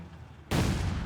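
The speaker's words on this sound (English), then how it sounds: "There we go, the Sturm ready with its 75mm cannon." A single abrupt, loud cannon blast from a German Sturm 75mm gun in the strategy video game Company of Heroes 3, bursting out after a quiet lull and leaving a sustained heavy rumble.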